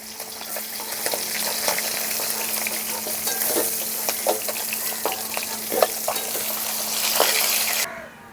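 Pieces of ghaura fish frying in oil for a fish curry, a loud, close, continuous sizzle peppered with small crackles and spits, steady until it cuts off near the end.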